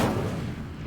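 Incendio fire spell cast in Hogwarts Legacy, a single loud, close, rumbling burst of flame that fills the whole second and tails off slightly.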